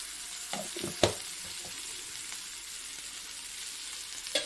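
Ginger garlic paste frying with flat beans in a home kitchen pan, giving a soft, steady sizzle with a few brief clinks or stirring knocks near the start and end, quiet and close, with no talking.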